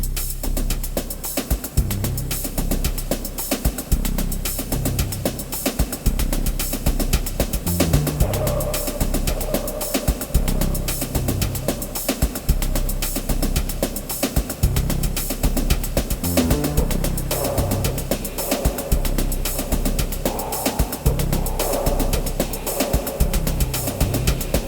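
A finished electronic music sketch built with the Basslane Pro plugin, in a game-music and cyberpunk synth style, plays loud and continuous with a steady pulsing rhythm, dense layered synths and punchy low end throughout.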